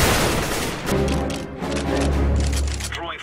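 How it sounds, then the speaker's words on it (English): A flashbang grenade detonates in the video game CS:GO, heard as a loud, dense burst of blasts and gunfire-like cracks over a deep rumbling low end that stays sustained throughout. "Deploying flashbang."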